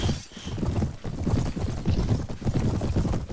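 Horse hooves clip-clop in the Mount & Blade Warband video game, a quick irregular galloping patter of thuds, fairly loud and continuous with no talk.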